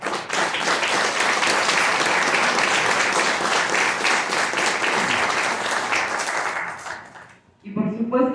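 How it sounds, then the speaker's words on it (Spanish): Applause from the audience at an academic induction ceremony: dense, sustained clapping fills the room for about seven seconds, then fades out, and a voice starts speaking near the end. "para el que pido un fuerte aplauso"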